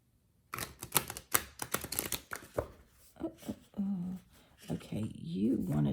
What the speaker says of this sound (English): I'm going to give them a big girl shuffle.